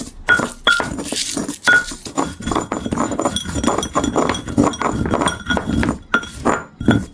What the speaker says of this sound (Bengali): লবণ আর মরিচ এই দুটো একটু ভেঙে নেব